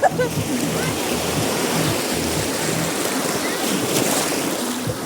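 Ocean waves wash and rumble along a beach in a steady, loud broadband roar, with a low engine-like hum underneath and no pause.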